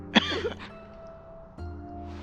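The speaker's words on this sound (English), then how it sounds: "they actually animated or gave her a cough sound effect." A character's cough sound effect in Final Fantasy XI, one short harsh cough near the start, followed by a low sustained tone and a quieter ambient hum.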